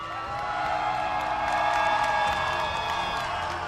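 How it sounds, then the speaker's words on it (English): Crowd at a Pokemon UNITE esports tournament watch party cheers and whoops steadily, a dense roar of many voices sustained throughout at fairly loud level. "You have a lot of fans here cheering for you."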